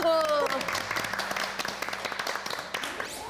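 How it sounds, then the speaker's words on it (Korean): Studio participants on a Korean adult-learning program clap together after a call to applaud, the claps ragged and fairly close, following a short stretch of talking at the start. "자, 박수."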